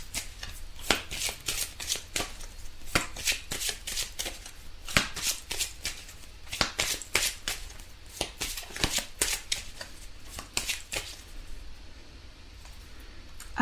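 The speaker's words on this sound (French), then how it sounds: "On va tirer 3 cartes pour voir ce qui ressort." Tarot cards being shuffled before a three-card draw, a run of crisp papery riffles and snaps at uneven intervals. The sound is close and clear against a quiet room, with no talking.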